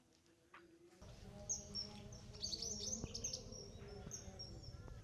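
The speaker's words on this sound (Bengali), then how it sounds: "পাখিদের কিচিরমিচির শব্দ" Small birds chirp and twitter around a quiet village on a foggy winter morning, bright overlapping calls starting after a second of near silence, with a low background hum beneath.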